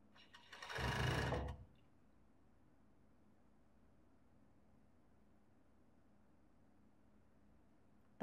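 A sewing machine stitches a long-sleeve robe in one loud, steady whirring burst lasting under a second, after which the room falls nearly silent.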